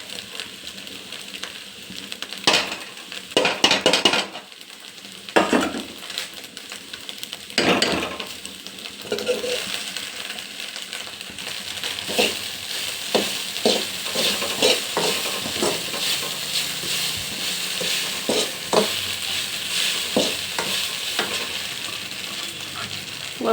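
Egg palya with grated coconut being stirred and fried in a pan, with a steady sizzle under repeated scraping and clinking strokes of a spoon against the metal, close and fairly loud throughout.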